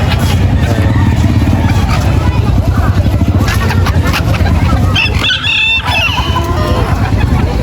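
Micro bantam chickens at a busy outdoor pet market, roosters crowing repeatedly and hens clucking over a constant crowd babble, with a higher, sharper crow breaking through near the end.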